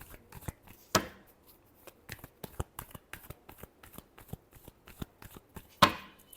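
Tarot cards being shuffled by hand in a quiet room, a rapid run of crisp riffling clicks and slaps with two sharper, louder snaps standing out; no voice is heard.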